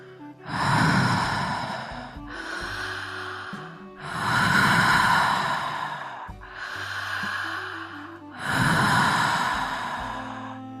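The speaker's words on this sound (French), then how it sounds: "Vous avez le droit de faire du bruit quand vous respirez, de laisser du son sortir de vous." Fast, audible breathwork breathing, with deep, forceful breaths repeating in a steady rhythm. Long noisy inhales alternate with softer exhales, close up, and gentle music plays underneath.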